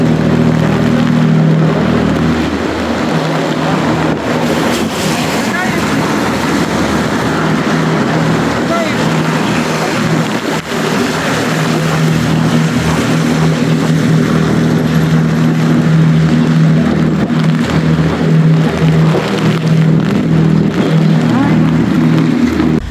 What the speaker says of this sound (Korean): 저 유람선이잖아